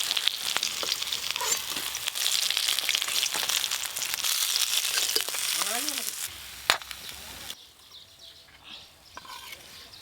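Small fish fry in hot oil with a loud, dense sizzle and occasional stirring clatter, which fades to quieter crackling toward the end, with a brief bird-like chirp in the background.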